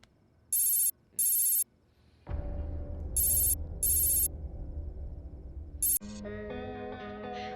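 A phone rings in repeated short bursts, several rings with pauses, while music and background hum play underneath; no one answers.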